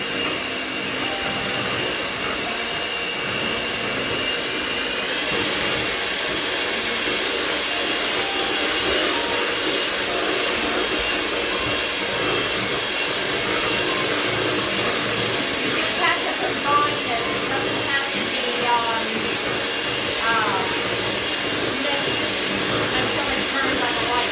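Electric mixer whirring through zucchini bread batter, a loud, steady, continuous motor drone with gritty texture, running alone throughout.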